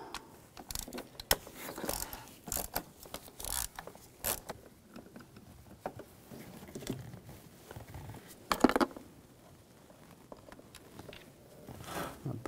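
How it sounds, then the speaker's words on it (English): An E6 socket backs out the bolt holding a camshaft position sensor on a 2006-2010 BMW 550i 4.8L V8, giving faint, scattered metallic clicks and ratcheting ticks with brief bursts of handling noise. "Using an E6 socket, take the bolt out."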